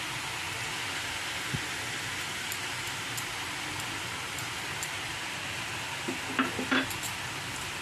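Vegetables for a sandwich filling, including beetroot, are stirred in a pan over medium-high heat, giving a quiet continuous sizzle with a few soft scraping and clinking touches of the utensil toward the end.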